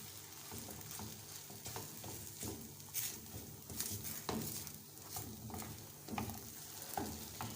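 Halwa being stirred continuously with a spoon in a pan, giving a soft, steady scraping and sizzling texture with faint rhythmic clicks, close and quiet.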